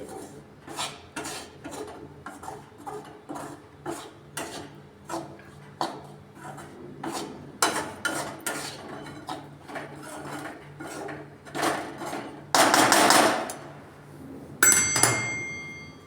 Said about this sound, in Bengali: এটা আমি হাতায় লেগে গেছে বলে খুন্তিতে এগুলো আমি ছাড়িয়ে নিচ্ছি